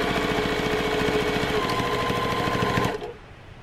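A sewing machine runs steadily, stitching a cushion cover in one continuous close, loud burst that stops abruptly near the end.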